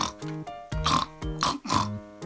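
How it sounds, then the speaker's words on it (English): Harmonic grunts and squeals from farm pigs come in several close, loud bursts in a steady rhythm, each a drawn-out oinking squeal, with no talk over them. "That's right, pigs. That was the sound of pigs."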